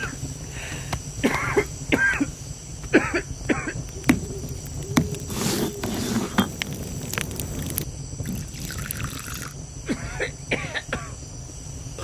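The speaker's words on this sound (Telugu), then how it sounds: "ఎంతో మంది డాక్టర్ల దగ్గర తీసుకెళ్లి వీడిని చూపించామండి, అయినా వీడి దగ్గు తగ్గలేదు" A boy coughs and clears his throat in short, sharp bursts scattered through a movie scene, with faint voices and background noise between them.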